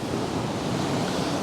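Sea water rushing in around a rock pool at a beach, a loud, close, continuous roar of surf with wind buffeting the microphone.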